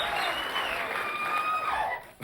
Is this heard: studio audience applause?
yes